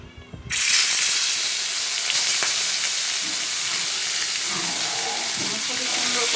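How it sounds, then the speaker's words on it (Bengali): Bhola fish coated in salt, turmeric and chilli powder frying in hot oil, giving a loud, continuous sizzle that starts abruptly and holds steady with small crackles. "এই মাছটা আমি এবার ভেজে নেব।"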